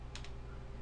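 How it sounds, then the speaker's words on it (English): Enter key pressed on a computer keyboard: two quick, faint clicks in close succession, heard alone against a quiet background hum. "Hit enter to save it."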